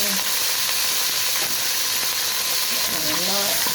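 Chopped onions sizzle and fry in hot ghee in a pan for a desi palak gosht, a steady close crackling hiss throughout with some background talk.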